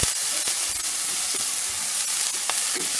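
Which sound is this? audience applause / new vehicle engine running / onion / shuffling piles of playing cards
onion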